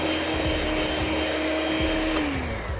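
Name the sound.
electric mixer mixing egg into cookie dough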